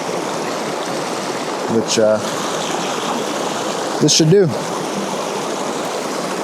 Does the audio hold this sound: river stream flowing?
yes